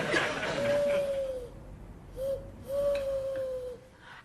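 A person imitates an owl hooting, giving three drawn-out, wavering hoots separated by brief pauses in a quiet indoor room.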